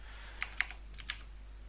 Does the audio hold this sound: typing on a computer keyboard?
yes